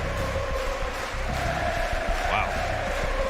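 An esports crowd chants at a CS:GO grand final between Navi and Vitality, a loud sustained massed roar of voices filling the arena, with a voice speaking over it.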